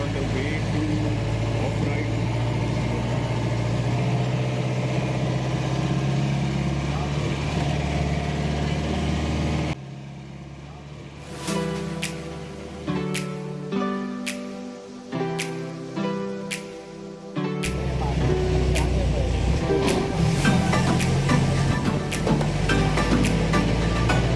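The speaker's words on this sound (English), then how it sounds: "This 20-minute jeep safari was one of the most adventurous and bumpiest rides of our life." Jeep engine rumbling on a bumpy safari ride in Munnar, Kerala, a steady mid-pitched drone with a brief quieter stretch of clattering jolts and knocks before the engine noise returns loudly.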